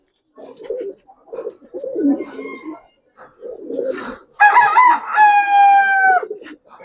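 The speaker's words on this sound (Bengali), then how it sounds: "একটা সিঙ্গেল নর খুব ভালো ডাকে দেখলাম একা একা ঘুরে ঘুরে ডাকতেছে" A single male Giribaz pigeon coos in repeated low, throaty bursts close by, while a rooster crows loudly over it near the end.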